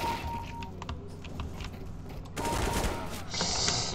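Gunfire in a competitive CS:GO match, a few sharp shots and bursts ringing out amid game noise, fairly close and loud, with no talking.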